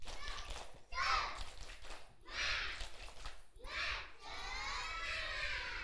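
Kindergarten children at a school event shout a rhythmic group cheer in three bursts followed by a longer loud chant, a crowd of young voices filling the room.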